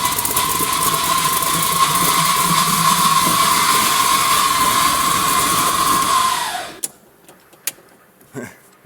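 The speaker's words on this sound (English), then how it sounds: "That noise you hear is the intake sucking air." An idling F-body car with dual exhaust gives a continuous airy hiss and whine as the intake sucks air through the idle valve. The sound runs loud and steady, then cuts off abruptly near the end, leaving a few faint clicks.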